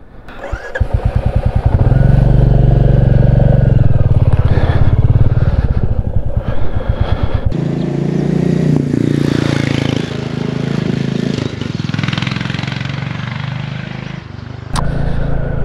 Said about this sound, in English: But let's get on the bike and have a ride.